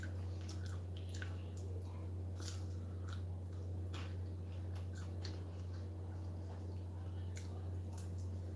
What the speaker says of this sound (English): Do you hear how those fries still have a crunch even though I'm dipping them in sauce?